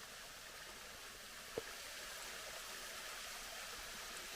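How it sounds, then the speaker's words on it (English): Tiny Dancer Falls, a thin waterfall on the Rhododendron Trail near Mount Airy, Georgia, gives a steady faint hiss of falling water throughout, with one brief small knock partway through. "this is the third waterfall on this trail, and this one is called Tiny Dancer"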